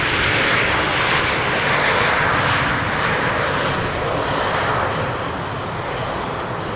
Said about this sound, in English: the A380 is going to land on the runway we are currently standing alongside